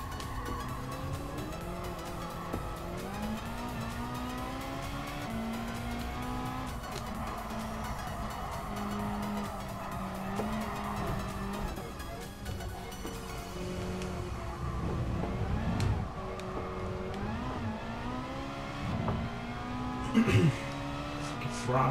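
A Ferrari race car engine in Gran Turismo Sport during a Ferrari-only La Festa Cavallino race, droning at a steady pitch and then climbing and dropping as it revs up and shifts through gears, with a louder burst near the end.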